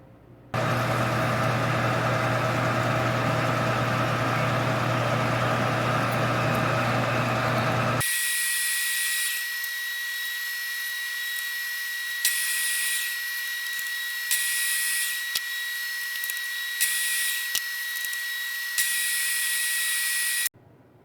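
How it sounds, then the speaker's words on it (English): Lathe drilling, chamfering and parting a UV- and moisture-resistant polyester plastic bar in a home shop, heard as a steady whirring machine drone, then a brighter, higher cutting whine broken by short pauses and bursts, loud and close with no talk. "I'll drill a center hole, chamfer, and part to length on the lathe."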